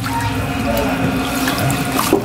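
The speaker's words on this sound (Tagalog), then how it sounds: "dito natin to ibabad sa sink kasi yung sink may asin na to tsaka tubig" Water sloshing in a kitchen sink filled with salted water for soaking vegetables, a steady close splashing and trickling wash with faint background murmur.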